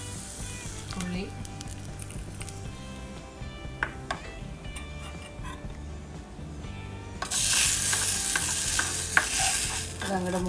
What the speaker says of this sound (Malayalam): ഈ ഉള്ളി ഇടുന്നു, വഴറ്റുന്നു